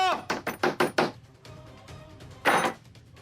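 Someone bangs hard on a locked door: five quick heavy thumps in a row, a pause, then one more loud bang, close and sharp.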